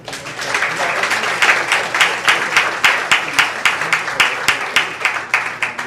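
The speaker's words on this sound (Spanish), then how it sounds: "Vamos a darle un aplauso al Señor" A church congregation claps together in a steady, rhythmic beat, loud and regular, with the strokes falling evenly throughout.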